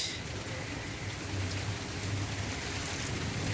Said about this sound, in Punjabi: ਚਲੋ ਜੀ ਜਿਹਦੀ ਵੇਟ ਸੀ ਉਹ ਤੇ ਆ ਗਈ ਬਾਰਿਸ਼